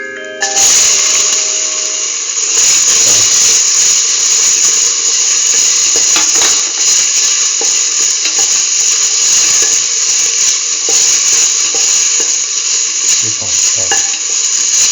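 Tomato pieces sizzle and fry steadily in a hot pan for a curried mustard okra stew, a loud continuous crackle with occasional stirring scrapes, no talking.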